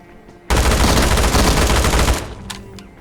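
Rapid automatic gunfire in a battle royale video game, a loud, dense burst lasting nearly two seconds, followed by a couple of fainter sharp reports.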